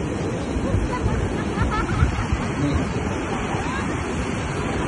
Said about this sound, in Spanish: está muy bravo el mar